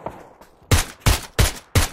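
Four sharp, loud gunshots fire in a steady rhythm after a quiet start, each a punchy burst with a short tail.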